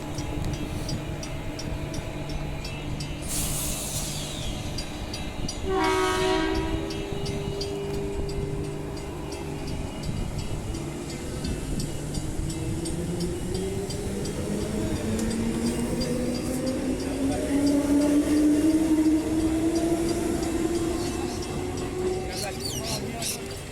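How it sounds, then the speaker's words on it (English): A two-car train pulls away from Oats Street Station, its motor whine rising steadily in pitch over a constant low rumble and ambient hum. "Let's watch the train depart."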